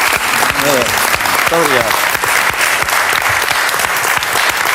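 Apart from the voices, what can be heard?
applause for the maestro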